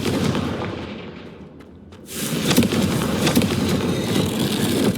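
A Confringo blasting spell in Hogwarts Legacy: after a brief quieter lull, a sudden loud explosive burst erupts, then gives way to a sustained, dense rumbling crackle.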